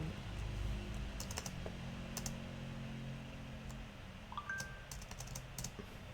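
Steady clacking of a computer keyboard as someone types Chinese characters, quick irregular keystrokes close by in a quiet room with faint background hum.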